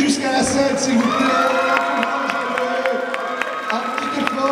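An audience at a cosplay contest on stage at a manga festival cheers, whoops and claps as a placing is announced, a dense sustained crowd roar with shouts and an announcer's voice over it.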